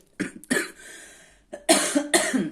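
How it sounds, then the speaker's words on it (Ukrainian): Several harsh coughs in bursts: one pair early, a drawn-out rasp, then a cluster of loud, close coughs near the end, with no talking. "І так, про кашель перепрошую"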